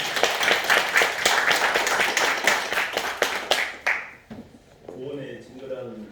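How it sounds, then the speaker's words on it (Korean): A church congregation claps in praise, dense bursts of clapping filling the room for about four seconds before fading, then a voice begins speaking. "박수로 하나님께 영광 돌리겠습니다."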